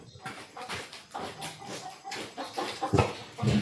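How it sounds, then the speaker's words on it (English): Farm chickens cluck and squawk in agitated bursts at close range, rising to louder, frantic calls near the end, with no talking over them. "Those chickens are wilding."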